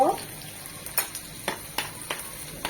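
Carrot and chopped garlic stir-frying over high heat in a pan, a steady sizzle broken by quick, regular scraping strokes of a spatula about every half second, close and moderately quiet.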